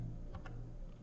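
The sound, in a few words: typing on a computer keyboard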